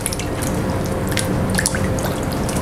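Potato strips being washed by hand in a bowl of water, close splashing, dripping and sloshing with small bright splashes throughout, loud and continuous, no talk.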